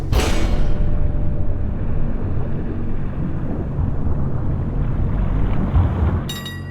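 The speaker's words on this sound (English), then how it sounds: "Activate the reversing engines." Titanic's engines running in reverse, a loud, continuous low rumble and heavy mechanical roar that holds steady for several seconds, with a brief hiss at the start and a faint rattle near the end.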